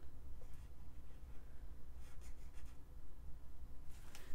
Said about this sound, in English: Let's draw a flower.